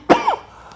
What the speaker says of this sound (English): That was a weed cough, not coronavirus.